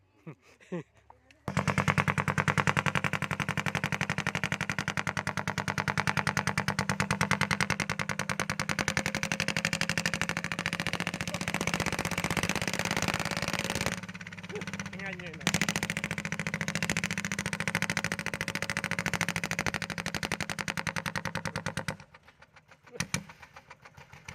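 A modified Thai iTaen farm truck engine roars loud and close with rapid chugging for a long stretch, its rattling beat steady and harsh, briefly dipping before surging again.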